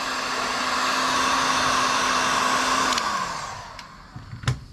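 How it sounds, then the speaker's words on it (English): Heat gun warming the adhesive behind a car badge: a steady, loud, close blowing hiss with a fan whine that winds down and stops near the end, followed by a few faint knocks. "just going back along with your heat gun"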